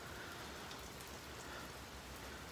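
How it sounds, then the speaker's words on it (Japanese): Steady morning rain falls on wet ground outdoors, a soft, even hiss that never lets up, faint and constant with no voices over it. "雨でございます。"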